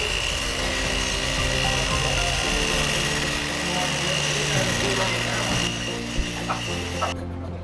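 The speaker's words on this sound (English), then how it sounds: "you move quick across this thing, and you sweep across it, and it literally is power scraping" Hand scraping a metal surface with a scraper during a metal scraping class, a steady rasping scrape running continuously up close, with a few sharper strokes near the end and voices in the background.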